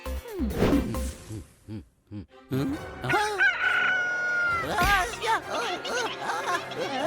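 A rooster crows loudly and close by, giving one long drawn-out call with clucks and fowl noises around it, in a comedy cartoon setting with no speech.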